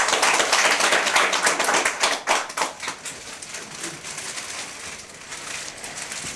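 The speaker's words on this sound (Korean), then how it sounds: "네, 박수로 환영해 주시기 바랍니다." A welcoming round of applause at a Saemaul Association meeting in Naju, with crisp clapping from a modest group that is strong at first, then thins and fades into scattered claps.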